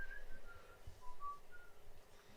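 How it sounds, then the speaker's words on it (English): Faint whistling of a few drawn-out tonal notes, quiet and somewhat distant beneath a low rumble of background noise. "it was the whistling"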